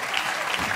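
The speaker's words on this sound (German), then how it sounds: "Sie können auch ruhig mal klatschen" Studio audience clapping at a football goal-wall shooting contest, a steady dense wash of applause at moderate level, with no voices over it, throughout the short moment.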